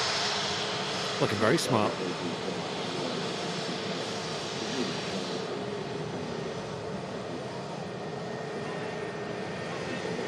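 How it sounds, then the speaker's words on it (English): An easyJet Airbus A320neo taxiing at Manchester Airport, its steady engine roar broad and continuous throughout, with a person speaking briefly near the start. "EasyJet A320 Neo. Taxiing off 23 right."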